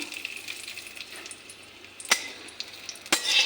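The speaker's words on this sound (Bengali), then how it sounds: "ভাজা কড়াইতে আমি পূরণ দেব দেখো তেজপাতা শুকনো লঙ্কা" Bay leaf and dried red chilli tempering in hot oil in a kadai, a steady soft sizzle broken by two sharp clinks of a utensil.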